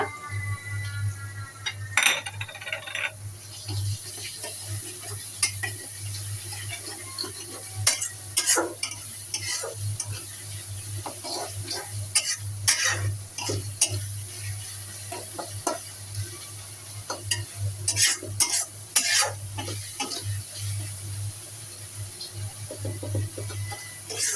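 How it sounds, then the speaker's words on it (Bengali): Onions and garlic paste fry in a pan for a prawn and potato bhuna, a steady sizzle under repeated scraping and clinking of a spoon stirring against the metal, close and continuous with no voices. "পেঁয়াজগুলো লাল লাল করে ভেজে নেব।"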